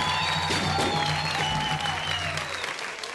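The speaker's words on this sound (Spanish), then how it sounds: "El aplauso." Studio audience applauding at a Colombian TV comedy show, a dense, steady burst of clapping held close for about three seconds before tapering slightly, with a faint tonal hum running underneath.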